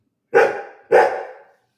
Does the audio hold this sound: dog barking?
yes